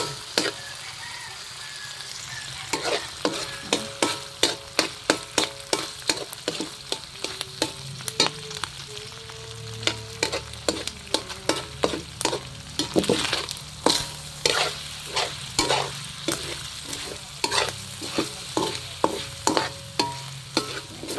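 Onion and garlic frying in a little oil for a pork and coconut-shoot stew, with a steady sizzle broken by frequent sharp scrapes and knocks of a utensil stirring against the pan, nearby and without talk.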